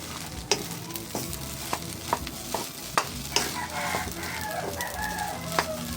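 An egg fries in a covered pan while sinangag fried rice is being made, giving a steady low sizzle with scattered sharp ticks and pops throughout, close and fairly quiet with no talk.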